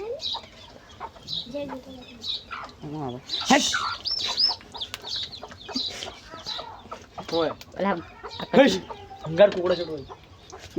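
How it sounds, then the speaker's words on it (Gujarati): Roosters cluck and squawk repeatedly in the foreground, mixed with bits of nearby chatter, busy and irregular throughout. "આ કુકડા પણ મને હેરાન કરી છે"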